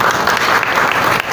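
Audience at a public meeting with residents in Rani Bagh, North Delhi, gives loud, close, dense applause that stays continuous and unbroken across the short stretch.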